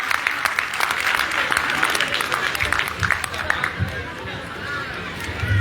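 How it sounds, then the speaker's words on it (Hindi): Loud, sustained applause from an audience at a CA student fest in Faridabad, with dense clapping and crowd noise running throughout, swelling slightly toward the end. "और एक बार जोर तालियां हमारे मंत्री जी गौरव गौतम जी के लिए हो जाए"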